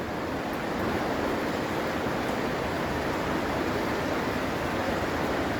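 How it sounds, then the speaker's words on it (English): Rushing water pours through an underground Victorian brick culvert beneath a town, a steady, dense, broadband roar that echoes continuously without a break or any voices. "water flowing faster up ahead"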